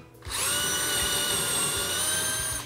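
A cordless drill whines at high speed, starting abruptly and running steadily and loud for a couple of seconds, close by with no talking.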